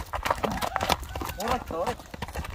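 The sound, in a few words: horse hooves clip-clopping while walking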